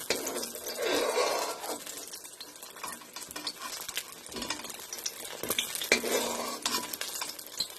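Brinjal frying in a pan, with a close sizzle broken by repeated scrapes and clinks of a utensil stirring and turning the pieces, and no one speaking.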